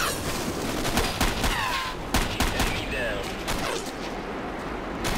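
Rapid gunfire in a shooter video game, repeated sharp shots and bursts of fire cutting through a busy mix, with a player talking at times.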